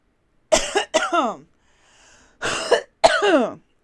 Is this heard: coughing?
yes